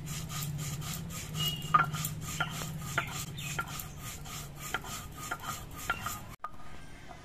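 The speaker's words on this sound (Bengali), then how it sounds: "এবার অল্প একটু আমি রাঁধুনি বেটে নেবো।" Radhuni seeds ground by hand on a grinding stone, a steady rough rubbing and scraping with sharp stone-on-stone clicks, close and continuous for several seconds, then a brief pause before it resumes.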